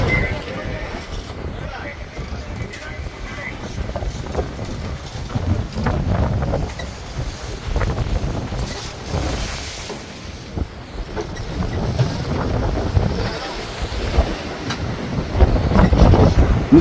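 A fishing boat rides out a storm at sea, with strong wind buffeting the microphone and heavy waves crashing steadily, a loud, continuous roar under people talking.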